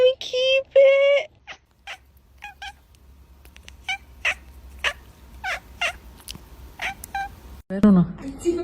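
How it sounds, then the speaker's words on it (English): A small kitten cries in a series of short, high, plaintive meows, some closely spaced and others spread out, heard fairly close with brief human voices in the background. "I told you it was a little kitty."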